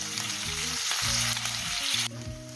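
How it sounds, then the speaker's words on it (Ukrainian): Chicken livers fry in a pan, giving off a steady, close sizzle and crackle with a low background hum running underneath and a brief change in texture near the end. "Підсмажую всю печінку і викладаю на сковорідку"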